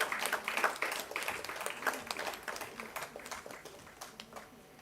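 An audience gives scattered, moderately quiet applause for a third-place prize winner at a science event in Goa. The claps come in uneven bursts and gradually thin out.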